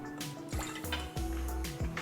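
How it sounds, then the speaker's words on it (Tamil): A quarter cup of water is poured into the inner vessel of a cooker while sambar is being prepared, giving a few splashing, dripping bursts in a steady stream, close and clear, with no talk over it. "ஃபர்ஸ்ட் 1/4 கப் தண்ணி நம்ம ஊத்துறோம்."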